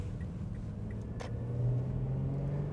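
Used car being driven through a couple of corners during an appraisal test drive, with a steady low engine and road rumble inside the cabin and a droning tone that rises and strengthens midway, no talk.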